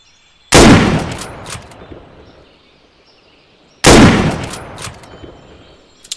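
Two sharp, loud gunshots from a weapon in the ARMA 3 IFA3 war mod game, a few seconds apart, each followed by a decaying echo and faint mechanical clicks.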